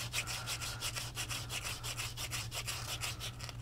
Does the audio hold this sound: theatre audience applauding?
no